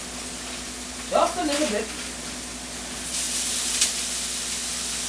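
Purple onions sizzle as more oil is added to a hot pan for Philly cheesesteak sandwiches, a steady close frying hiss that swells briefly, with someone speaking over it.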